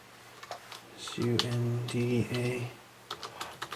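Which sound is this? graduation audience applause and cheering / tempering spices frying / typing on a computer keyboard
typing on a computer keyboard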